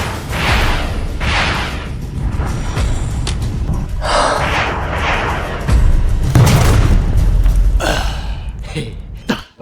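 Cannon fire at a monster in a Chinese drama's action scene: loud, deep booming blasts that rumble heavily around the middle, mixed with vocal grunts and gasps.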